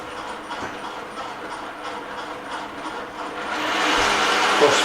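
An EMCO lathe runs with its cross feed engaged, giving a steady close mechanical whir and rattle that grows louder and brighter toward the end, with no talking.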